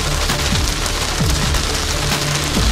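Dense, steady drumming of hail pelting a car's roof and windows on the Pikes Peak road, a loud continuous rattle with no pauses.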